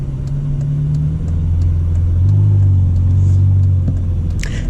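A Ferrari California T creeps along slowly in automatic mode, its engine giving a steady, close, low rumble that swells slightly midway and then eases off.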